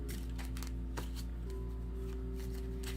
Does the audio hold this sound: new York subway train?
no